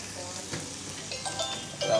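Spices including chilli flakes and cumin sizzle and fry in a pan for an Iftar dish, a steady close crackle with occasional stirring scrapes that swell louder toward the end.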